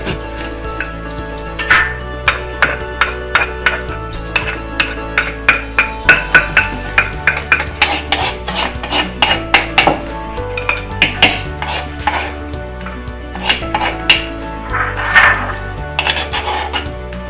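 Tomatoes pounded into paste with a pestle in a clay mortar: a steady series of sharp, hollow knocks and clinks, close and loud, repeating in an uneven rhythm with no talking.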